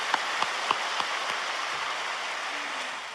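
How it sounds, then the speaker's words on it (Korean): A church congregation at a prayer retreat applauds, a dense, steady rain-like wash of many hands clapping together, with a few sharper claps standing out at the start. "우리 하나님께 감사와 박수를 올려드립니다"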